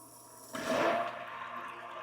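A small submersible sump pump draws water out of a bucket. After a brief quiet moment, a soft gurgling rush starts abruptly and keeps going at a low, even level.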